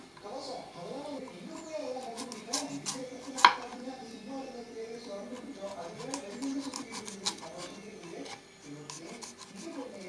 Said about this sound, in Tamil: இதே மாதிரி நீங்கள் ஸ்லைஸ் ஸ்லைஸாக கட் பண்ணிக்கோங்க